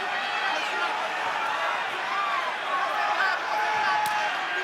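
A packed arena crowd at a fight in Melbourne roars and chants steadily for Silva, a dense, sustained wall of voices with a distant, reverberant quality throughout.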